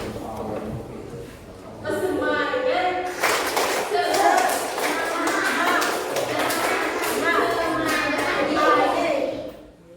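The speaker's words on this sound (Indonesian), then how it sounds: "Anak bisa tepuk semangat?" A class of second-grade children performs a rhythmic group spirit clap in a school classroom, sharp patterned claps mixed with young voices chanting along, starting softly then loud and sustained for most of the stretch.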